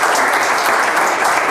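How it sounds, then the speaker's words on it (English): A packed audience at an evening talk on lessons from the Russo-Ukraine war gives a round of applause, a dense, even wash of clapping that stays loud and steady from start to finish. "Can we give another round of applause for Robert Roseberry?"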